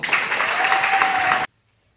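A short burst of loud, dense audience applause welcoming a speaker on stage at a business plan event in Raipur, cutting off abruptly into silence after about a second and a half.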